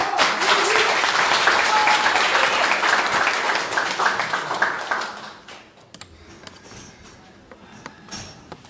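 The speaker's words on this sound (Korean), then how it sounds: "뜨거운 박수 부탁드리겠습니다" Loud applause from a crowd fills the room at a party leadership candidates' speech event, sustained clapping that thins out into scattered claps toward the end.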